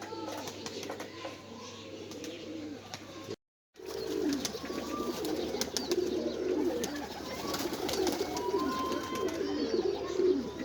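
Flying pigeons coo softly and repeatedly in the background, a low murmuring sound with a short silent break partway through.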